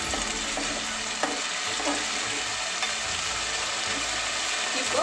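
Ginger-garlic masala is stirred as it fries in a pan for a Tamil egg gravy, giving a steady close-up sizzle with repeated scraping strokes of the spoon throughout.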